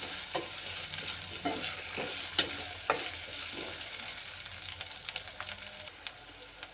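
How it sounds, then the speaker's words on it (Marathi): Brinjal (eggplant) pieces fry in hot oil with a soft, steady sizzle, broken by several sharp clicks and scrapes of a spoon stirring the pan, all at close range. "वांगे पण आपल्याला तेलामध्ये भाजून घ्यायचे आहेत व्यवस्थित"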